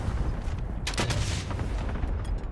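Gunfire in Call of Duty: Modern Warfare rings out as a sharp, loud shot followed by a quick cluster of cracks, over a busy background of game noise.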